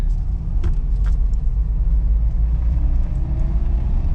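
A manual-transmission car rumbles with steady engine noise as a learner driver pulls away in the street, a close, loud, continuous drone with a few faint clicks and rattles, no talking.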